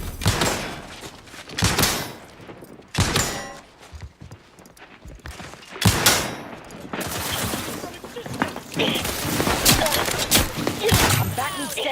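Bursts of gunfire in The Outer Worlds 2, coming in uneven volleys and rapid fusillades across the whole stretch, with loud sharp blasts mixed in and a voice speaking over parts of the combat.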